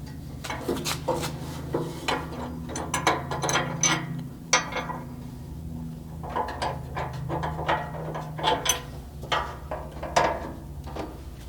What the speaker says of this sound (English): you can go ahead and remove these last 2 mounting bolts and lift this off of the vehicle